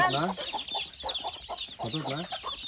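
A village rooster clucks in quick, repeated bursts close by, the calls tumbling over one another with a few soft background voices.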